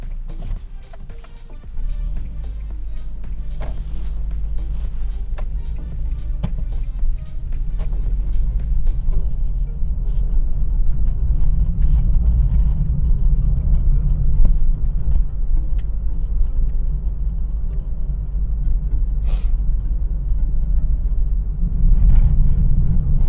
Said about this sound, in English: I'm going to go over a load of bumps.